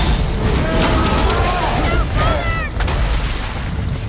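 Explosions boom continuously in the God of War video game, loud and close, with crackling debris and whooshing streaks layered over a dense low rumble throughout.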